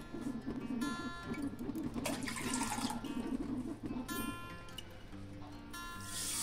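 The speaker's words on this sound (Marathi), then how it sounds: "आता आपण 2 वाट्या पाणी घालणार आहोत" Two cups of water splash steadily into a pot for a lemon sugar syrup, a continuous close pour that keeps going and gurgles, with soft clinks near the end.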